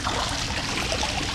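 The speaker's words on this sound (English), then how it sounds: "I have found a spring. It's completely natural, created by the elements." Water from a natural spring trickling and splashing close by, a brief continuous bubbling flow with no voices.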